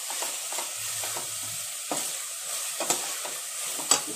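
Vegetables for a corn soup, seasoned with salt, garlic and ginger, cooking in a pan with scattered scraping stirs over a faint steady sizzle, close and fairly quiet with no voices.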